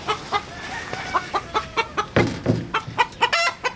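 Chickens on a rabbit farm cluck in a steady series of short, close calls, with one louder burst partway through and no talk.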